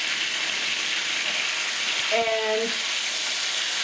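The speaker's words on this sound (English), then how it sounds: "I'm going to let that fry for a few minutes" Peppered chicken frying in a pan on medium-high heat, giving a steady, loud sizzle throughout, with a brief word spoken partway through.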